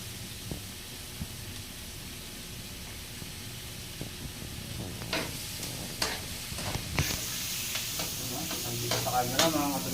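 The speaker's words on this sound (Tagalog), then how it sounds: "Habang natutunaw yung butter para hindi matutong, sabayan natin ng sibuyas" Onions sautéing in melted butter in a pan for sisig, a steady soft sizzle with scraping stirs that grow busier and slightly louder toward the end.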